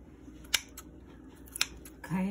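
Sharp kitchen scissors snip through pork chop meat in two crisp cuts, spaced about a second apart, close by against quiet room noise, followed by a brief low hum at the end.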